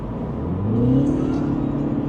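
A car switched into JCW mode revs up, the engine note climbing then easing in a short, close, moderately loud rise with a faint whirring layer.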